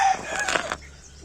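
Chickens eating black soldier fly larvae cluck and squawk in a short, busy burst, close by, fading off after under a second.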